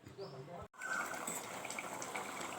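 Water is poured into a simmering Kerala garlic theeyal curry, a steady close gush that follows a brief voice and a short cut-off.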